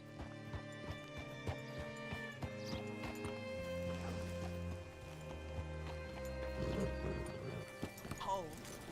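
Steady hoof clip-clops from a horse in Red Dead Redemption 2 amid background music, with a brief whinny and some scattered bumps along the way.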